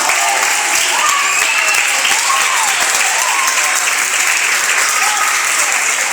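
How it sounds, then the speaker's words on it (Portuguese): A church congregation applauding during an afternoon service, loud dense clapping from many people that holds steady and continuous throughout, with a few raised voices mixed into the crowd. "E levante e aplaude o nome do Senhor nesta tarde."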